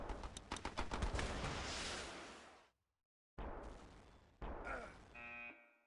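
Artillery fire from a howitzer in a combat video game: a dense run of heavy booming blasts, a brief silence, then more loud bursts ending with a high ringing tone.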